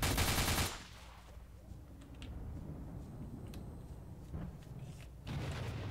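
Rifle gunfire in the S.T.A.L.K.E.R. Misery game, a loud burst of shots at the start followed by a quieter stretch of distant pops and clicks, with another loud burst at the end.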